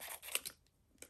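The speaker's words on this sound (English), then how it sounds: "I cannot open this. I need my scissors." A few quick, quiet snips of scissors cutting open packaging, close by, with short pauses between the cuts.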